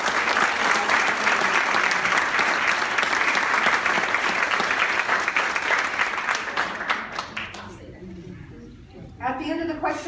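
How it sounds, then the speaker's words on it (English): Audience applause at a candidate forum, sustained dense clapping from a crowd for about eight seconds before fading out, followed by a voice speaking. "A round of applause for them."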